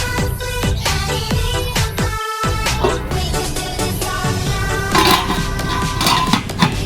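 A cupcake pan set down into a hot wok gives a clattering metal-on-metal clank, followed by several sharp clinks and ringing scrapes of pan against pan, close and fairly loud with no talking.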